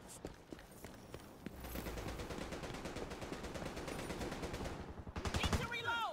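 Rapid automatic gunfire in The Division 2 video game, a dense sustained burst of shots running for several seconds amid game ambience, growing louder toward the end with a few sharp metallic ricochets.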